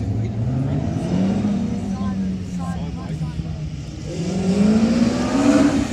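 A BMW M3 challenge-class rally car drives past at Targa West in Perth, its engine rising and falling loudly in pitch as it accelerates by, with a commentator talking over it.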